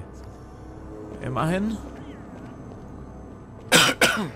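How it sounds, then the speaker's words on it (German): Coughing from inside the video game Ultima 9, two short harsh bursts near the end following a brief spoken word, over low game ambience. "Und das Husten, das bin auch nicht ich. Das ist irgendwo im Spiel drin."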